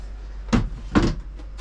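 A cupboard hatch inside a sailboat cabin being opened: two quick knocks and clunks of the wooden panel, close by, over a low steady hum.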